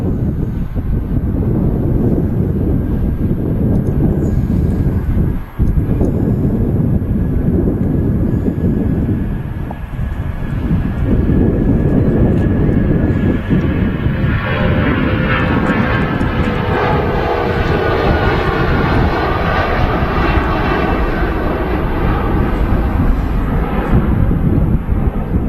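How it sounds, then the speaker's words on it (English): An Icelandair Boeing 757 taking off at Manchester Airport gives a loud, sustained jet engine roar that builds and rumbles, with wind buffeting the microphone, then a rising whine as the climb continues. "That was a quick rotation. And a powerful climb from the 757."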